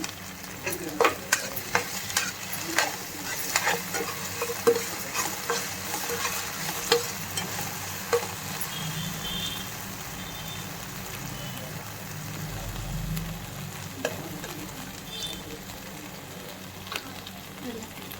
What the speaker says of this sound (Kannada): ಗ್ರೀನ್ ಚಿಲ್ಲಿ ಸಾಸು ಇದೆಲ್ಲ ಒಂದ್ಸಲ ಮಿಕ್ಸ್ ಮಾಡ್ಕೊಳ್ಳೋಣ